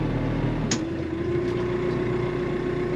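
A KIOTI RX7330 tractor, a Korean machine of around 75 hp, drives in second gear, its engine a steady close hum with a low-pitched drone and a brief higher click partway through.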